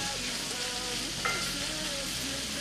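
Sweet potato stir fry sizzles steadily in a skillet, a continuous close frying hiss with light stirring scrapes throughout and no talking.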